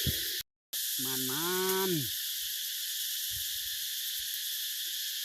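A single bird gives a short warbling call in a forest at night, about one second long and fairly close, over a steady drone of insects, with a brief word spoken and small rustles afterward.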